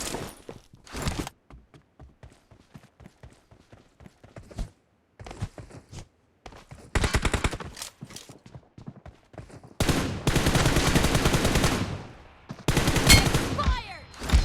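Gunfire in the battle royale game PUBG Mobile: rapid bursts of automatic fire, sharp and loud, with short gaps between sporadic shots and then long sustained volleys near the end.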